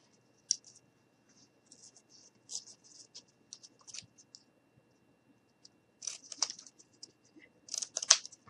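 Scissors snipping through a thin piece of cardboard during a craft build, with a few scattered soft cuts followed by louder close crisp snips near the end, quiet between.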